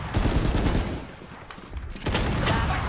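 Rapid gunfire while running and shooting in the Valorant video game, loud dense bursts that dip briefly mid-way before resuming, no talk.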